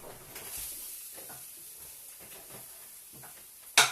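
Onions and a minced meat patty sizzle in a frying pan with a faint steady hiss, ending in a brief louder crackle or scrape.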